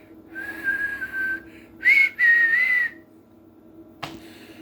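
A janitor whistles a theme tune: a few clear, melodic phrases, close and fairly loud, with short pauses between them and a brief click near the end.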